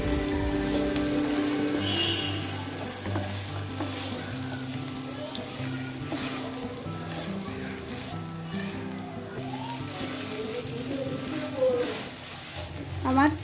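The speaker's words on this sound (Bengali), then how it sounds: "মশলার সাথে সিমের বিচি 2 থেকে 3 মিনিট কষিয়ে নেব।" Bean seeds sizzle and fry in a pan with spices while being stirred, a continuous close hiss broken by occasional scraping and stirring sounds, with a low steady hum and background music underneath.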